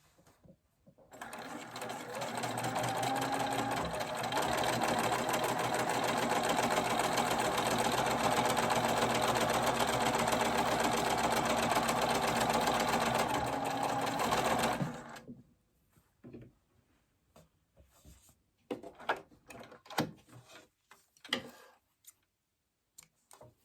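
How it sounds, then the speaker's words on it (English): A sewing machine stitches a quarter-inch seam across fabric for a Christmas stocking cuff, running in one loud, steady whirring burst of about thirteen seconds before stopping, followed by scattered handling clicks and rustles. "I'm going to sew a 1/4 inch seam all the way across here"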